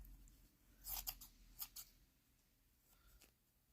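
Scissors snip material for a dollhouse armchair in a few quiet, close cuts, two quick snips, then a pair more, in a hushed room.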